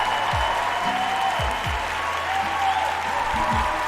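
Steady applause holds at an even level throughout, with low gliding tones and a faint hum running beneath the clapping.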